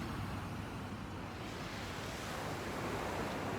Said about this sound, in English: But look at this beautiful ocean behind me.